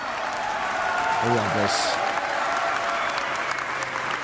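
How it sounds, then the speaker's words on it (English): Audience cheering and applauding at CitizenCon, a live Star Citizen fan event, a steady wash of clapping and crowd noise filling the whole stretch while a voice speaks briefly over it. "This was the biggest cheer I heard all day."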